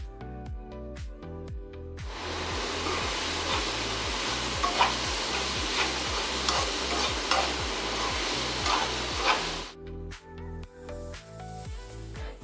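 Chopped tender jackfruit sizzles loudly in a hot pan, a dense frying hiss sustained for several seconds, while a regular beat of music plays throughout.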